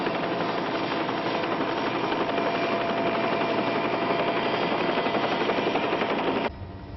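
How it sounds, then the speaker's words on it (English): A helicopter hovers above a hot crater, then moves clear, a loud, continuous rotor and engine roar that holds steady before dropping sharply in level near the end. "I'll have to move the copter clear."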